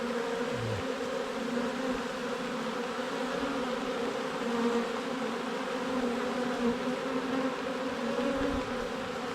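Damp honey bees crowding toward a hive entrance, a dense close buzzing hum that holds steady throughout with no voices.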